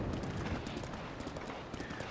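Horse hooves clopping quickly in Zelda: Breath of the Wild during a stormy ride, a dense, fast galloping patter filling the brief moment at a steady loud level.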